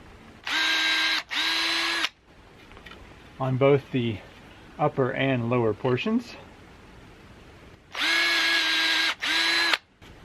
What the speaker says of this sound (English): So I'm just going to be pre-drilling the wood